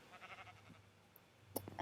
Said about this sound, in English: We got 2 sheep.